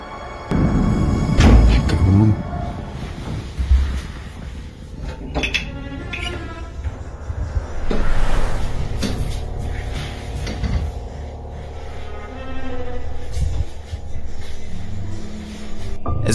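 Doors slam inside an apartment: several loud, sharp bangs and knocks, with scraping and rattling between them, repeat irregularly over a dull room hum.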